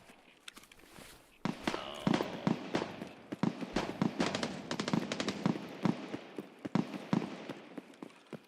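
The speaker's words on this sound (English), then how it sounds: "Someone's shooting at me." Escape from Tarkov gunfire cracks out as a string of sharp, irregular shots at middle distance, some in quick clusters, over a busy background of movement and rustling.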